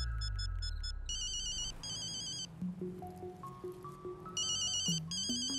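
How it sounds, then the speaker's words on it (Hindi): A telephone ringtone rings with loud bright repeating electronic trills and a rising melodic line of notes, alone with no talking. "फोन उठाओ, लक्ष्मी बचाओ।"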